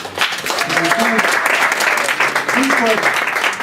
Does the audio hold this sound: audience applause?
yes